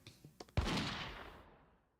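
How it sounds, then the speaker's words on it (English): A single loud gunshot sound effect is played on a live stream, preceded by a few soft clicks, then a sharp crack followed by a long rumbling decay that fades out over more than a second. "Oh, the gunshot."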